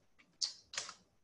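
Two faint keystrokes on a computer keyboard, typed into an RStudio session, with a short pause between the quick clicks.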